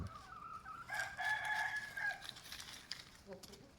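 A rooster crows once at moderate distance, a long drawn-out call, followed by a few soft clucks and light background noise.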